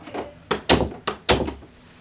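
A household door closing after its hinge was shimmed to stop rubbing: a series of loud, close thunks and soft knocks as the door swings and latches, with no talk over it.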